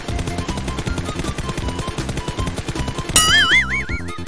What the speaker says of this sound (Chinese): 有枪声